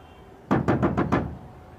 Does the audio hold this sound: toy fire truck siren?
no